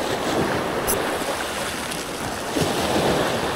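Sea swells wash steadily around a small fishing boat on open water, a continuous close rushing of waves mixed with gusty wind noise, with no talking.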